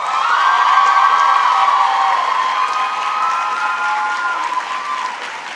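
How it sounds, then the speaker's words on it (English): Applause at the 2012 Barnard College graduation ceremony, a loud, dense crowd clapping continuously with scattered cheers and whoops, sustained throughout and fading slightly toward the end. "So please give them a big round of applause."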